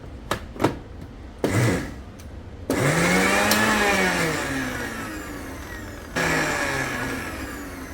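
A mixer grinder pulses spicy coconut pol sambal with chili powder: a few short whirring bursts, then one long, loud grinding run that briefly eases and surges again.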